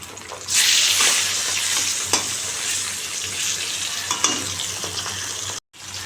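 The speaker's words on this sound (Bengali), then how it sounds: "বন্ধুরা দেখো মাছ ভাজাটা বসিয়ে দিলাম" Fish pieces hit a hot pan of oil and burst into a loud, hissing sizzle that holds steady with occasional crackles and spatters, close by, then cut briefly near the end.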